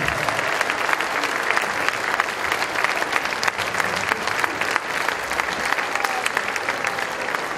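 Sustained applause from an audience, a dense, even patter of many hands clapping throughout without a break.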